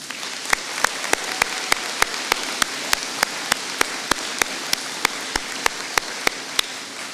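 Steady, evenly spaced sharp claps ring out one after another at a graduation ceremony, dozens of crisp hits forming a metronomic rhythm over a soft room wash, with no talking.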